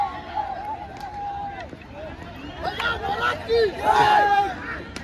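A village cricket tournament crowd celebrates a team's win with loud cheering, shouting and a steady babble of voices up close, rising into a louder burst of cheers near the end.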